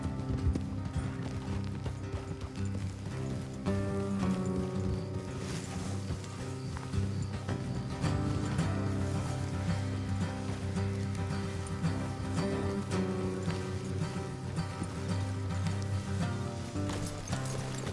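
Horses gallop in the video game Red Dead Redemption 2 with steady, rhythmic clip-clop hoofbeats over a continuous background score, the pounding hooves driving on throughout.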